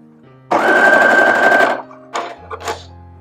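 A Brother FS101 or DS1300 sewing machine stitches at a short 1.8 stitch length, with a loud, close, steady motor whir for just over a second, followed by a few brief clicks and knocks.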